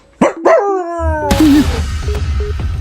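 A human voice imitates a dog, giving a couple of sharp yelping barks followed by a drawn-out whining howl, loud and close.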